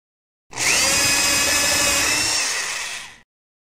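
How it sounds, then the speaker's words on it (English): Steady power-drill whine boring into a tree trunk in a children's exploration game, one continuous loud run of about three seconds that starts abruptly and tapers off, with no voices. "First, drill a hole in the tree."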